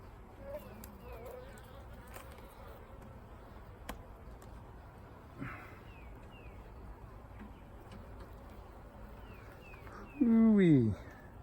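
Honeybees buzz softly around an open beehive during a brood inspection, a low continuous hum with occasional closer fly-bys, and a louder, nearer buzz surging near the end.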